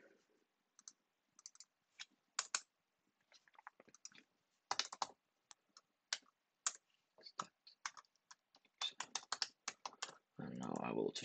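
Quiet, close keystrokes on a computer keyboard come in short irregular bursts while a wrong password is entered into a login screen, with a brief louder rustle at the end.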